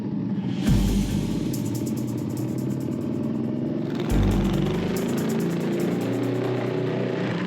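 Ducati 1299 Superleggera superbike with a full Akrapovic exhaust runs on a race track, its engine roaring loud and steady, with two sharp surges of hard acceleration and rising revs, plus a high whine and the rattle of upshifts.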